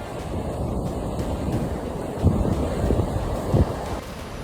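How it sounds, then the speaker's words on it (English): Floodwater surges across a California highway like a raging waterfall, a steady broadband roar of rushing water with wind buffeting the microphone and a couple of brief louder swells. "Traffic cameras in California capture a dramatic sight as floodwaters surge across a highway like a"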